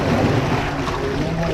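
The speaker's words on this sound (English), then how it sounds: "Once we get to 170 gallons, it will start the agitator." A pulp blending tank's agitator churns 170 gallons of water in a steady, loud, dense wash of turbulent sloshing with a low rumble, constant and close with no talk.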